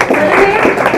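Audience at a music album launch claps loudly and close, a thick, continuous burst with a voice audible underneath.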